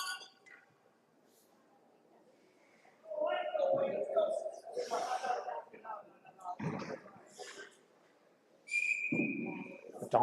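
A referee's whistle at an under-18 ice hockey game gives a brief shrill blast near the end, amid arena noise and a commentator talking.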